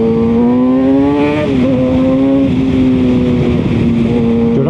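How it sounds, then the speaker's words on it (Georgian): A motorcycle engine running hard close by, holding a high, strained revving pitch that dips and climbs again with a brief rev change midway. "რაღაცა გაცოფებულია ეს მოტო"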